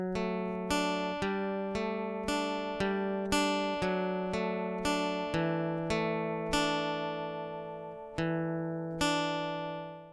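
Guitar picking a looped pop-song part note by note in a steady, repeating rhythm, each note plucked clearly and left to ring, close and alone.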